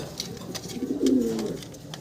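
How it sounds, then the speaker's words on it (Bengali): A male pigeon with feathered feet cooing as it circles a female, a close, rolling low coo swelling in the middle over faint background bird chirps, with no talking. "যেটা ঘুরে ঘুরে ডাকতেছে নর"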